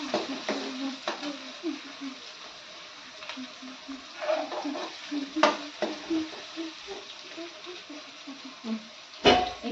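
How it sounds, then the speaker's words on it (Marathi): Chopped onion and green chilli sizzle and fry in a pan while a spoon stirs them in short scraping bursts, close and steady with occasional clinks of utensil on metal. "कांदा छान परतून घ्यायचे ह्यातून मी थोडी चिरलेली मिरची पण टाकून घेते कांद्यासोबत"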